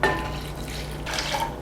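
Two cups of water poured into a pot of multigrain haiga rice with buckwheat, a steady close splashing fill lasting under two seconds, with a brief clink of the pot near the end.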